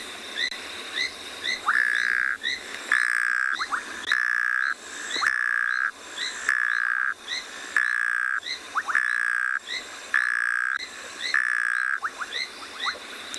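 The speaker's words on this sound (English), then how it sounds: "So it sounds like a little froggy that's snoring." A small frog's recorded call repeats about ten times in a steady rhythm, each note a rasping, snore-like croak with a rising chirp at the start, clear and close over faint background noise with no talk.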